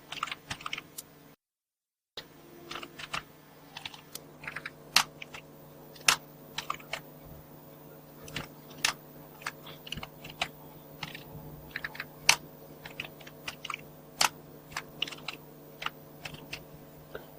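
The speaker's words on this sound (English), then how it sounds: "So I will just type" Typing on a computer keyboard, with irregular bursts of close, crisp key clicks and short pauses between them in an otherwise quiet room.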